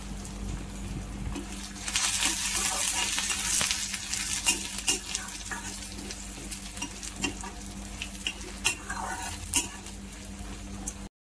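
Steady sizzling of chana dal frying in hot oil with scraping stirs and occasional clinks of a utensil against a metal kadai, close up, without any talking.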